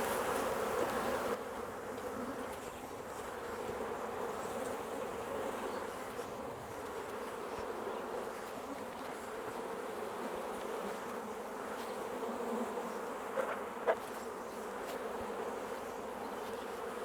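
Honey bees buzz around hive frames and brood boxes during queen rearing, a dense, steady droning swarm that fills the whole stretch close up, with a few faint knocks and no talking.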